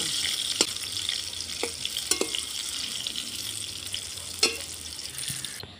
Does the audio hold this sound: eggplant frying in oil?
yes